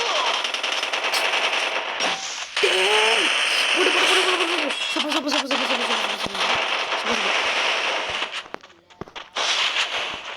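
MP5 gunfire from the Free Fire video game rattles in loud, rapid bursts with short gaps between them. Voices talk over parts of the shooting.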